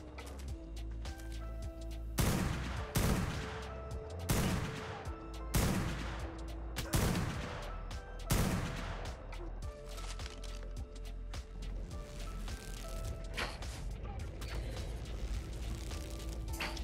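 Gunfire in the video game Ark rings out as a series of loud, evenly spaced single shots, about six in a row, then fades into dense, quieter game noise and rumble.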